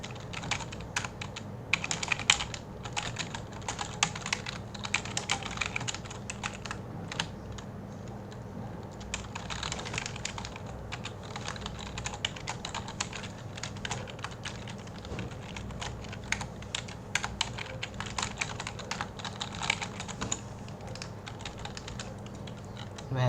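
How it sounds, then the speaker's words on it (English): Steady, rapid typing of C++ code on a computer keyboard, a dense run of close key clicks with brief pauses and a few louder taps, over a low background hum. "we type some C++ code here"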